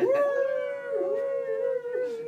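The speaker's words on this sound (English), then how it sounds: "it was so cool that the wolves start howling" Wolves howl in long, sustained, wavering tones that rise and dip, a steady loud chorus with a brief higher yip near the end.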